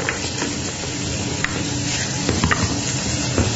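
Smoked bacon fries hard in a pan, a loud continuous close sizzle and spatter with a few crackling pops, heard alone with no talking.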